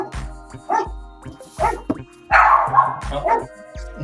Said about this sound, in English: Now my dog's growling.